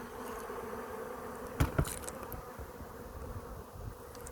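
Many agitated honeybees buzzing in a continuous low drone around an open hive on an overcast day, with a couple of brief knocks partway through.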